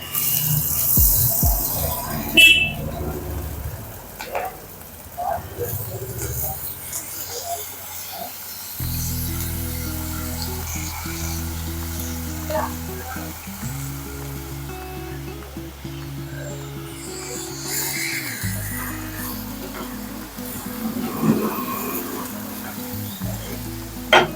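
Soaked, drained dal and rice tipped into a hot spice tempering for simple dal khichdi give a steady, close sizzle with stirring, rising after the addition and running on with brief dips.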